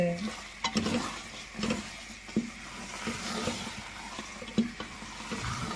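Gajar ka halwa, a batch of over 3 kg of carrot pudding, stirred and roasted in a pan, with steady sizzling frying and repeated scraping strokes of the spoon at an irregular rhythm, close up, with no talking.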